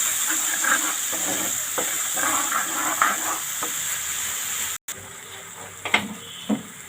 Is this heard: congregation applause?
no